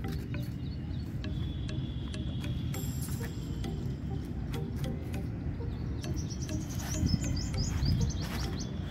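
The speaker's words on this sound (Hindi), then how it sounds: "चिड़ियाओं की आवाज़ कैसी आ रही है? पेड़ पे बैठी हैं चिड़ियाँ," Birds in a tree in a park chirp and tweet in short repeated calls over a steady low outdoor hum, with insects faintly buzzing along.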